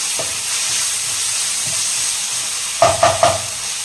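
Ginger and garlic sautéing in a pan for mutton chukka, giving a steady sizzling hiss throughout with a few stirring scrapes near the end.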